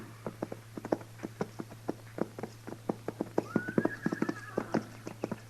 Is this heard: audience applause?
no